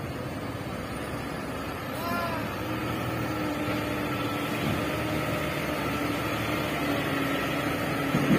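A Hino truck engine revs under a steady, rough rumble that swells a little and keeps droning, with faint background noise and no clear talk over it.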